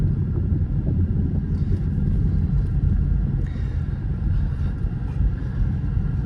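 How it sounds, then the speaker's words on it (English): A car with a loud, throaty aftermarket exhaust at a dealer auction rumbles heavily up close, a deep, continuous low growl with slight surges and no speech over it. "I'm all for a nice throaty exhaust, but this one might be just a little bit much"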